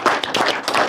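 An audience claps on a Brekete Family radio program, a short close burst of clapping, several hands at once with uneven rhythm, no one talking over it.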